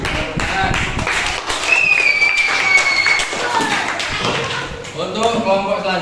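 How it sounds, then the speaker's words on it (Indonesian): A class audience claps in a quick burst of sharp, close hand claps for a student group, with voices talking over and between the claps. "Ya, tepukan."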